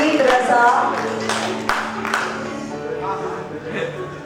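An audience at an awards ceremony claps for an honoree, scattered clapping under an announcer's voice and music, louder at first and then fading.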